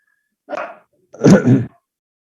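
A small dog gives two close, loud barks indoors, a short yip followed by a longer, rougher bark after a brief pause.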